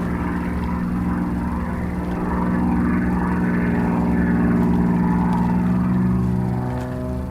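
Loud, steady droning of an aerobatic propeller airplane pulling vertical into a hammerhead at an aerobatic competition, the engine note swelling slightly in the middle and holding throughout.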